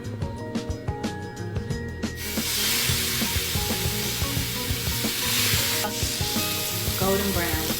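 Food lightly seasoned with salt and garlic powder drops into a hot pan and bursts into a loud, steady sizzle, with utensil scrapes and light clatter over the frying.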